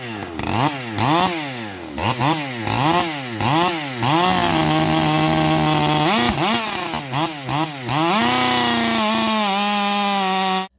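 A Stihl MS460 chainsaw fitted with nitrous revs up and down repeatedly in rising and falling surges, then holds a steady high whine, loud and close with no talking.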